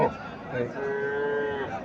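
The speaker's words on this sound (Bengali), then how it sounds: "এখানে একটা গাবি দেখা যাচ্ছে" A desi cow at the Mirshanni cattle market in Comilla lets out a single close, sustained moo of about a second, over a low market murmur.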